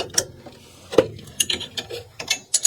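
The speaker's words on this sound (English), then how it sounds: "Luckily this one over here isn't turning on the other end, so I'm able to do it with one wrench." A wrench turns a fitting on a water circulation pump, giving a run of irregular close metallic clicks and knocks with short gaps between them.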